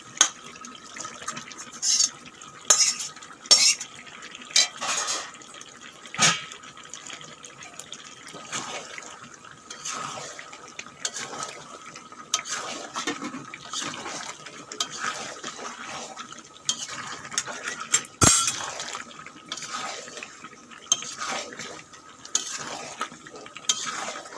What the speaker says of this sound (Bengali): এখন দিয়ে দেব ভেজে রাখা আলু আর পেঁপে